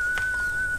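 A person whistles one steady high note held for under a second, with faint rustling and low background noise around it.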